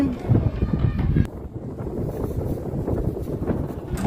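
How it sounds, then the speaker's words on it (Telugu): Strong wind buffets the microphone at an outdoor borewell site, a loud, rough rumble that gusts unevenly throughout. "గాలి చాలా ఎక్కువగా పెడుతుంది"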